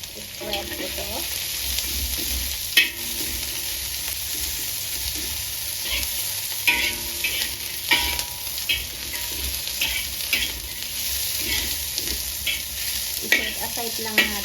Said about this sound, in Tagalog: Para sa ganun, i-fry natin yung karne.